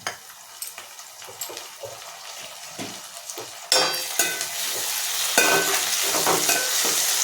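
Tomatoes frying in oil for a gulivindalu sea fish curry, the sizzle jumping louder halfway through as they hit the pan, with intermittent scraping stirs throughout.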